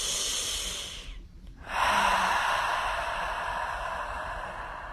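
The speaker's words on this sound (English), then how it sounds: "Let's take another deep breath." A slow, deep breath during a guided forgiveness meditation: a soft airy exhale, a brief quiet pause, then a long steady intake of breath, close and fairly faint, with no talking.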